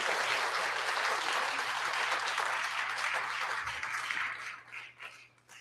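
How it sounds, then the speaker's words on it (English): Dense, sustained applause from a church congregation, a continuous wash of many hands clapping at once that holds steady before fading and breaking into a few final claps. "one big last round of applause for everybody who shared today"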